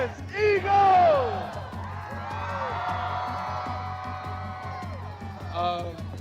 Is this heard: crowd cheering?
yes